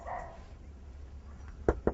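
Dogs give two short, sharp barks in welcome near the end, close and distinct over a quiet indoor room, after a brief murmur of voices at the start.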